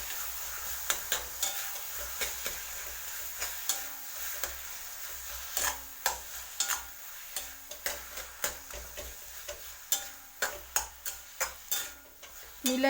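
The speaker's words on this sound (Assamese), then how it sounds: "আৰু মই ইয়াক ভালকৈ মিলাই দিম" Mashed brinjal with its charred bits is stirred and mixed in a pan, a steady rhythm of soft scraping strokes over a faint sizzle, close and fairly quiet.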